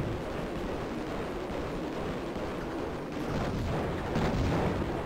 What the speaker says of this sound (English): Oh, ran into a bomb.